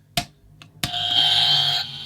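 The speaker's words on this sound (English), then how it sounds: "press the buzzer" Game show buzzer fires after two sharp clicks, then a loud harsh electronic tone holds for about a second before cutting off.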